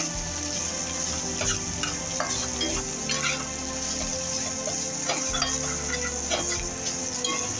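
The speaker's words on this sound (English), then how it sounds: "Now we'll just slide that turkey in there. So mix it up." Turkey fries in a hot pan while a utensil stirs and scrapes it, producing a continuous loud sizzle with rhythmic scraping strokes up close.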